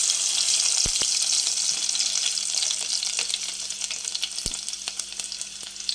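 Garlic and tempering seeds sizzling in hot oil in a pan on a stove, a steady bright hiss throughout with a couple of sharp clicks from stirring, close and fairly loud.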